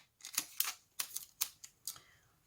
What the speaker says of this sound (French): Je vais venir mettre du scotch tout le tour